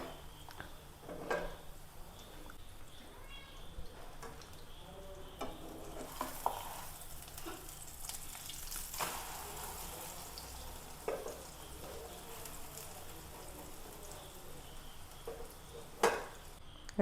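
Large duck eggs, halved and fried in a pan, give a faint steady sizzle with occasional soft stirring and utensil clinks, quiet and close, without talk.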